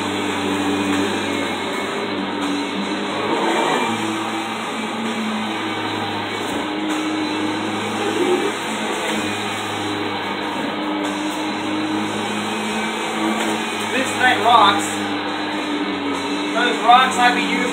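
A 1991 Kirby Generation 3 upright vacuum cleaner runs in a home with a constant, loud motor drone throughout, plus a few brief rattles of debris being sucked up near the end.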